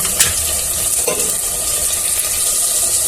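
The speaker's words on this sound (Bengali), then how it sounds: "আদা বাটা, রসুন বাটা দিয়ে দিলাম।" A loud, continuous sizzle comes from ginger and garlic paste frying in a pan, with a watery hiss and a couple of brief stirring scrapes.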